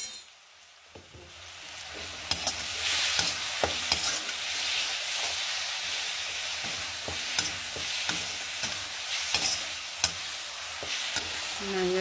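Ground spices and tomato paste for chana dal sizzle and crackle in a hot pan, with steady frying hiss, stirring scrapes and occasional utensil clinks close by, no talking.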